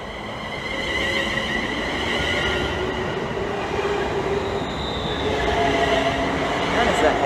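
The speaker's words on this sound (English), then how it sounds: "And the Northampton service is now departing" A Northampton-bound electric multiple unit, class 350 number 350249, departs Hemel Hempstead station on the West Coast Main Line, giving a steady close rumble with rising motor whine and faint wheel squeal throughout.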